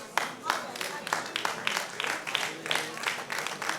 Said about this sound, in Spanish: Solamente algunos aplauden.